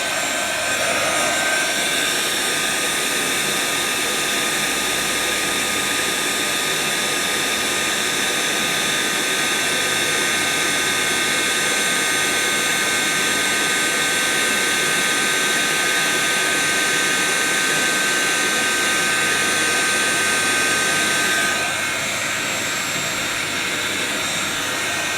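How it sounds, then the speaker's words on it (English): Constant loud blowing roar of a handheld heat tool melting clear embossing powder on a stamped card, holding steady for about twenty seconds before easing slightly at the end, with no talking. "then I'm just going to use my heat tool"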